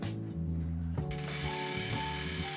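A bicycle rear hub freewheel ratchet gives off a quick, steady run of faint mechanical clicks, heard on its own.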